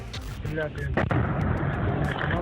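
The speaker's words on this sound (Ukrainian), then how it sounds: "ось працює російська артилерія з території Росії" Russian artillery firing from Russian territory toward Donbas, heard as a single heavy boom with a rumbling tail against constant outdoor background noise, with voices faintly present.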